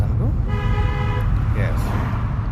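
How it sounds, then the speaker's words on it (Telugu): A car horn sounds in one sustained toot during a driving lesson, heard close from inside the car over a steady engine and road hum, with a voice speaking around it. "హారన్ చేయండి ఆ పర్సన్కు."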